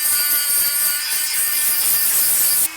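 A Dremel with a cutoff wheel grinds the leads on a circuit board. It gives a loud, sustained high whine with a steady tone that cuts off abruptly near the end.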